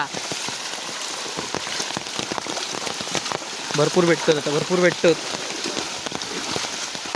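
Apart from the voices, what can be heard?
rain falling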